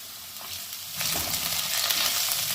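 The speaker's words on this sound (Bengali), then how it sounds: "এবারে আমি একটু পেঁয়াজ কুচি ওর মধ্যে দিয়ে দেবো" Chopped onion hits hot oil with reddish-fried potatoes in a pan, a soft hiss jumping into a loud, bright sizzle partway through, with stirring scrapes and no voices.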